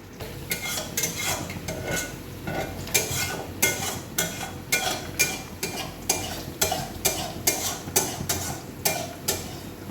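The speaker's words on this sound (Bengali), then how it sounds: "গাজর আর বিনসটা একটু সময় নিয়ে ভালো করে ভেজে নেব" Carrots and beans fry in hot oil in a pan while a utensil stirs them, giving a steady run of close scraping strokes and clinks over a continuous soft sizzle, with no one talking.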